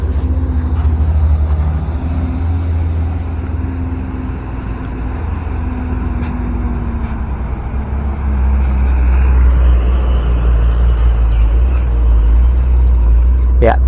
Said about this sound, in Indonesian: mulai banyak truk yang lalu lalang membawa tanah timbunan